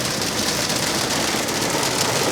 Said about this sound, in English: It's hailing right now.